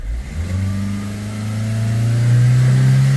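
A Hyundai Creta engine revs steadily during DPF cleaning, a loud sustained drone whose pitch climbs gradually and holds high toward the end, heard close with no talk over it.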